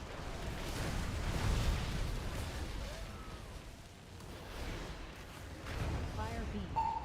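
A fire beam attack in a video game boss fight sounds as a low, rumbling blast that swells and fades in waves, with bursts and crackles, heard under voice chat callouts.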